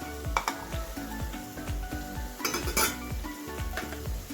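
Potatoes, peas and carrots stirred in a pan, with a rapid, regular run of spoon scrapes and clinks against the metal over a light sizzle, close up and without speech.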